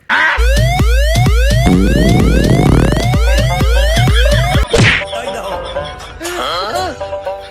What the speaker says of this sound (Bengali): এটা তুই অ্যাম্বুলেন্সের সাউন্ড বাজাইছিস